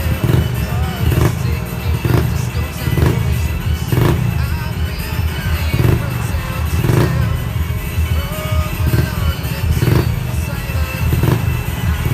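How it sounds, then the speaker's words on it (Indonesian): A Honda Vario 125 motorcycle engine idles roughly when cold, sputtering with uneven pops and a clattering rhythm, close by and continuous. "Ini saya kedatangan motor vario 125. Kalau pas dingin dia berbet."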